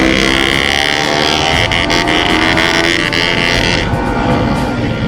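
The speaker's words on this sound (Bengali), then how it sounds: "আগে এই কেটিএমটার আওয়াজটা দেখো।" A KTM motorcycle on an Independence Day bike rally revs hard, its loud rasping engine roar rising and holding through heavy wind rush while riding.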